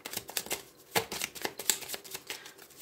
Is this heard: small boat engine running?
no